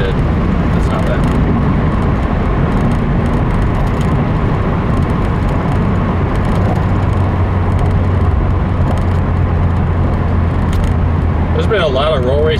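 A 2015 Subaru WRX under full throttle at around 2,000 RPM, with loud, dense engine and road roar from inside the car throughout and a steady low drone that builds toward the end.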